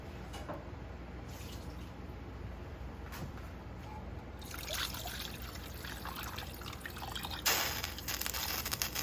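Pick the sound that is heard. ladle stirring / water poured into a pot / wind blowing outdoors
water poured into a pot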